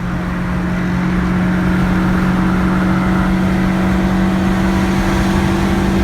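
A Tofaş Doğan S car engine drones steadily and loudly throughout, a low constant hum with slight revving and no pauses, the car struggling on the road.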